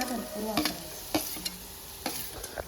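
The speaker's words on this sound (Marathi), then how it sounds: "कढई तर गरम करून घेतलेली आहे आणि त्याच्यात आपण टाकलेले आहे कांदा" Onion frying in a hot kadai, a soft steady sizzle broken by several sharp scraping strokes of a spoon stirring against the metal, close and fairly quiet.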